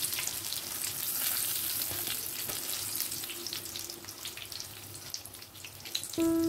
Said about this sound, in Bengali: এইভাবে পটলগুলোকে হালকা করে একটু ভেজে নিতে হবে।